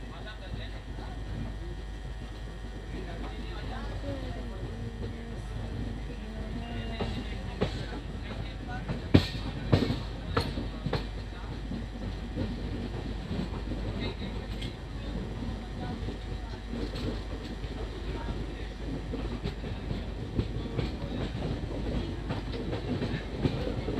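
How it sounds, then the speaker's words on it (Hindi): An Indian Railways passenger train running behind a WAP-7 electric locomotive en route toward Tirupati: a steady rolling rumble with faint clickety-clack and a few sharp rail clanks, with voices talking over it throughout. "बैब 7 अब हमारी ट्रेन को लीड कर रहा है"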